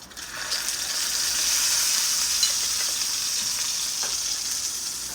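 Fish frying in a pan, a steady bright sizzle that swells as the fillet is turned, with faint scraping at times and no voices, close and continuous.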